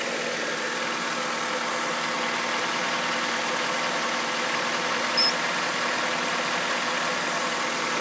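A warming-up 2002 Honda CR-V engine idles steadily with a smooth, continuous hum and no voices, holding an even level throughout.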